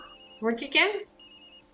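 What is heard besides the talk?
phone ringing in the video game Tokyo Dark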